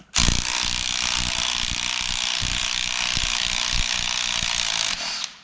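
A ratchet wrench clicks rapidly and loudly at close range while working on bolts on an antique Caterpillar RD4 tractor transmission, a dense, continuous metallic ratcheting that runs for several seconds and then stops abruptly.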